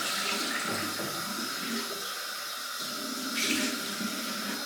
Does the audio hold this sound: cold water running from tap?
yes